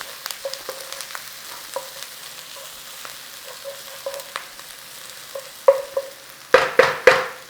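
Onion frying in a pan with spices for a chicken and potato curry, a soft sizzle with scattered small crackles and pops, a few louder stirring scrapes near the end, no talking.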